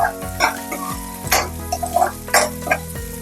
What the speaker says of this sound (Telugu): ఇదిగోనండి ఆనియన్స్ అయ్యి బాగా వేగిపోయినాయి